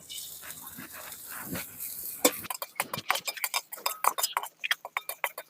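Neem flowers frying in oil in a pan, a soft sizzle followed by a run of sharp clinks and scrapes of a utensil against the pan, fairly close and uneven in rhythm.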